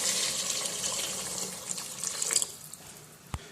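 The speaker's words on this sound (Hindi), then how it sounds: "अब इसके अंदर चावलों से दोगुना आपने पानी" Water poured into a cooking pot over softened tomatoes and peas for chicken pulao, a steady splashing stream that thins out and stops, ending with a single small clink.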